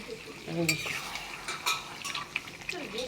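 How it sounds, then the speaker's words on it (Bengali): Goat meat being stir-fried in a pan, a quiet sizzle under brisk scraping and clinking of a spatula against metal, close by, with a few sharp taps. "মাংস কষা হচ্ছে এখন"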